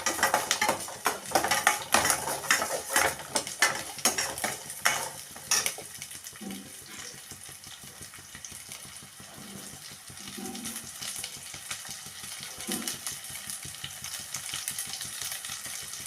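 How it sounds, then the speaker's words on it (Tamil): Ingredients for a tangy tamarind vatha kuzhambu sautéing in a pan: busy metallic stirring and scraping at first, then settling into a quieter steady sizzle, close and without talk. "நல்லா வதங்கட்டும் நல்லா வதங்கட்டும்"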